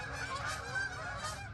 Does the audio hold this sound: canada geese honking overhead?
yes